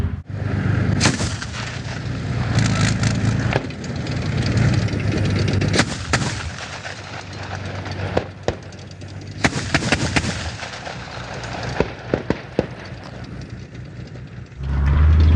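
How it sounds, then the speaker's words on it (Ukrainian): Repeated heavy cannon shots from an infantry fighting vehicle firing high-explosive fragmentation shells boom at intervals, with sharp blasts and distant explosions rumbling over a steady engine drone, during recruit training. "Зараз БМП веде вогонь осколково-фугасними снарядами бачимо характерні розриви"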